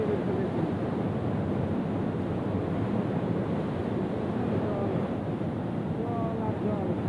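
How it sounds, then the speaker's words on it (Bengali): Rushing river water pours through the Farakka Barrage in a steady, broad roar that stays constant and fairly close, with wind buffeting the microphone throughout. "এই যে জলের গতিবেগ দেখুন।"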